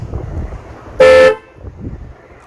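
A single short horn blast from an Audi A5, loud and close, cutting sharply through a low background rumble and stopping after about a third of a second.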